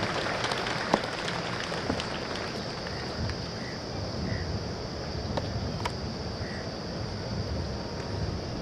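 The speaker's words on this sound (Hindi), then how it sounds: "आप इन सभी पुरस्कार विजेताओं के मेहनत और लगन को पूरा सम्मान देते हुए जोरदार तालियों से इनका हौसला अफजाई करें।" Steady crowd applause at a CRPF passing-out parade honouring award winners, a continuous even clatter of many hands heard from an open outdoor setting with light wind.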